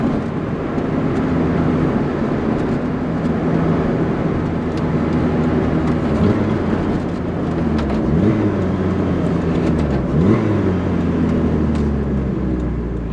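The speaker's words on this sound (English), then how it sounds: "Downshifting, which is also very pleasant in this car." A Lotus Exige S engine drones loud and close from inside the car on a twilight drive, with several quick revving downshift blips breaking the steady roar.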